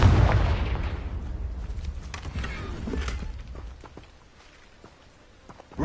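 A Confringo blasting spell explodes in the Hogwarts Legacy video game: a loud, booming burst at the start that rumbles and slowly fades, followed by scattered smaller pops and thuds.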